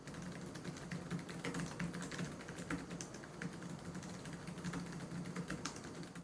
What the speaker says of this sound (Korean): 부드럽게 타이핑이 가능하고 매우 조용하기 때문에 누구나 금방 적응이 가능한 키보드입니다.